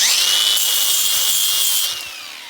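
A flap wheel scrapes and sands old gasket material off a cast aluminum throttle body from a 1994 GMC C3500 TBI, giving a loud, close, continuous rasping whir that eases off near the end.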